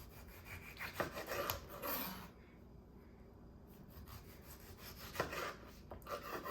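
A serrated knife sawing bread into strips, with rough rasping back-and-forth strokes in two bursts separated by a quiet pause, close and moderately loud with no talk.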